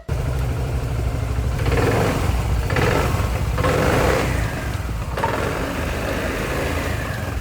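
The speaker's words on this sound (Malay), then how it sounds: "Bila kita rev, kita boleh rasa CVT dia bunyi kasar" A BMW C400X scooter engine idles, then revs up in a few rising bursts with a rough-sounding CVT before settling back to a rough, steady idle, close and fairly loud.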